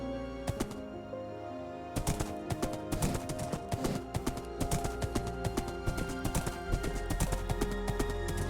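Minecraft horse hooves clip-clopping in a quick, steady rhythm, with repeated close, crisp clacks over light game background music.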